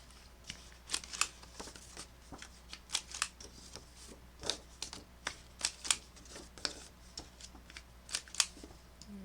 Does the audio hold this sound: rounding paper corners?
yes